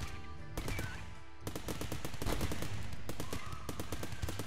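Rapid gunfire from colonists in the Rimworld video game fighting off squirrels in a winter biome: dense, continuous bursts of automatic-sounding shots, loud and close, with brief pauses between volleys.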